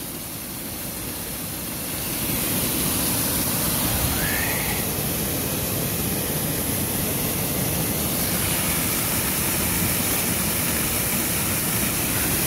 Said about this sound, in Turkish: Bakın şelaleye bakın.